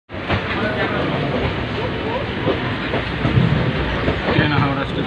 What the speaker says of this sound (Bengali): ট্রেন হাওড়া স্টেশন ছেড়ে